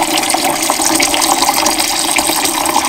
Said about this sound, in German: Da ist jetzt das Wasser gefiltert.